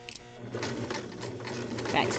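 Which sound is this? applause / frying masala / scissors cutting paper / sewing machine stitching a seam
sewing machine stitching a seam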